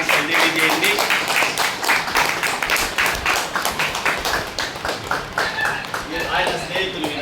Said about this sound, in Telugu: ఈరోజు మహిదర్కి మనం అందరం కూడా ఒకసారి మన చప్పట్ల ద్వారా పుట్టినరోజు శుభాకాంక్షలు తెలియజేయండి